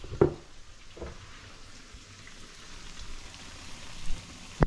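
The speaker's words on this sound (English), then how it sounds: "So it's frying now" Soft crackling sizzle of hot water cornbread frying in hot oil, steady and close, with a few sharp clicks and pops at the start and end.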